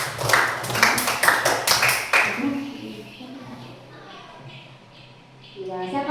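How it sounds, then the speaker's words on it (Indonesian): Audience clapping at a teacher-training program session at a university, with a burst of sharp, fairly close claps for about two seconds that then fades into murmuring voices. "tepuk tangan buat Rizal"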